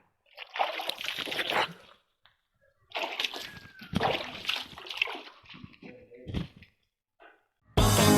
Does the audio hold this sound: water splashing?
yes